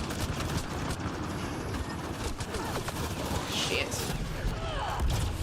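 Dense, continuous gunfire from enemy turrets in the sci-fi shooter Mass Effect Andromeda, rapid overlapping bursts and impacts filling the scene, with a player briefly speaking over the combat.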